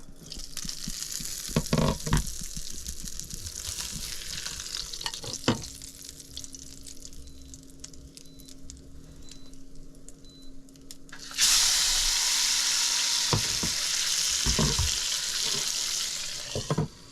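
Fish frying in a ceramic pan gives a steady sizzle with occasional stirring clatter, growing louder and brighter partway through as the hiss intensifies, close by.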